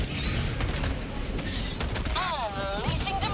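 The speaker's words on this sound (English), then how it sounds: "Firing orbital strike." Orbital strike explosions in Helldivers 2, a quick burst of booming, crackling blasts with mechanical clatter and a warbling electronic whine near the end, partly under a voice.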